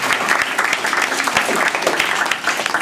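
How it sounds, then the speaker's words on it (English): An audience at a stage show breaks into steady applause, many hands clapping in a dense, continuous patter at moderate loudness. "A round of applause over there for a flower."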